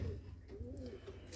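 Pet pigeons of the Giribaz and Bombay breeds coo nearby, soft low rolling coos rising and falling over a quiet background hum.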